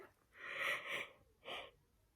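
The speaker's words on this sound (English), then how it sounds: "I didn't mean to yawn this much." A person yawning at home, a long drawn breathy exhale followed by a shorter second breath, close and fairly quiet with no talking.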